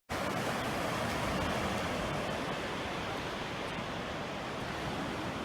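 Surf rolls onto Chatham Beach in a steady, unbroken roar, loud and near, filling the whole stretch with dense washing noise and no voices.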